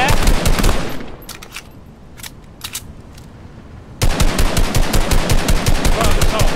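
Rapid automatic gunfire shot into the air in Fortnite's Fortnitemares mode: a loud, steady stream of shots, then a lull with only a few scattered shots, before the sustained burst resumes at full volume.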